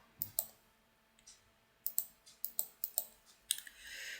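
A burst of about ten crisp, close mouse clicks in software, some in quick pairs and others spaced irregularly, set against a quiet background with no speech.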